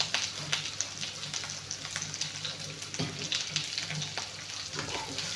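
Cumin seeds sizzle and crackle steadily in hot oil in a frying pan, a close, continuous fry with small pops and stirring throughout, no voices.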